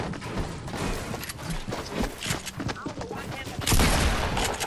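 Rapid SMG gunfire in a video game crackles in dense bursts throughout, loud and close, with people talking over the shooting.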